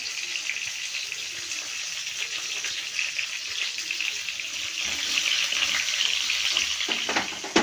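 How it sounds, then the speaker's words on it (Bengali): Chopped onions frying in oil for chicken kasha, a continuous bright hiss and crackle close up that swells slightly toward the end, with no voices. "পেঁয়াজটা আমার ভাজা ভাজা হয়ে গেছে"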